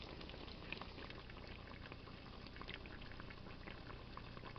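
Fry bread dough cooking on its second side in hot oil gives a steady, dense bubbling sizzle that holds at an even level throughout, with no talking.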